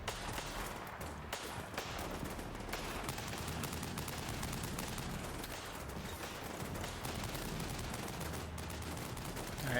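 Dense, continuous gunfire from a Stryker infantry assault on a defended built-up area, with rapid overlapping shots and bursts including M9 pistol and 5.56 rifle fire, steady and loud throughout with no pause.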